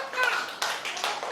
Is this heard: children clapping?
yes